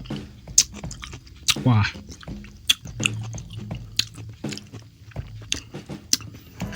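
Close chewing and biting while eating spicy balado cue fish with petai beans, soft wet mouth sounds in irregular bursts, with a brief exclamation from the eater.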